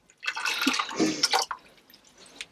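Water being mixed by hand in a bucket in an RV bathroom, boiled water stirred into cold, with splashing and pouring over about a second and a half, then quieter trickles and drips close by.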